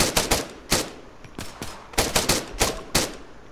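Video game gunfire crackles in rapid bursts, clusters of sharp, loud shots separated by short gaps, close and without talk.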